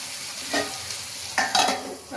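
Brinjal masala sizzles in oil in a pan while a spoon stirs it, with two or three louder scraping strokes over a steady close-up fry.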